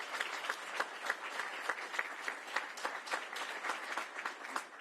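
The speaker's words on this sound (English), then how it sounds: "Let's give them a nice round of applause." Applause from an audience at an observatory project celebration, a steady patter of many hands clapping that holds fairly even throughout at moderate volume, with no talking over it.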